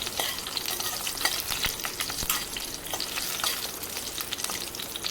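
Brinjal (eggplant) frying in a pan, a continuous close sizzle with scraping stirs and sharp clicks of a spatula against the pan, no voices.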